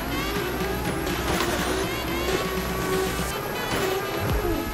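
A continuous, whining synthetic car engine drone with wavering tones and a high steady whine, distorted and glitchy throughout, from a malfunctioning Toyota JZX90 drift car in Assetto Corsa.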